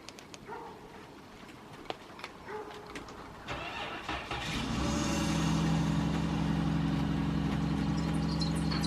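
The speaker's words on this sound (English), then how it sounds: "We're gonna start the car." A car cranks over in extreme cold, a metallic rubbing, scraping tone as the engine catches and settles into a loud, steady rough idle after a few seconds of quieter shuffling.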